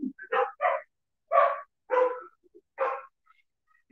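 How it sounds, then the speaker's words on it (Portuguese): A dog barks several times in short, separate bursts at a moderate distance, with pauses between barks and no one talking. "Cachorro tá latindo, gente"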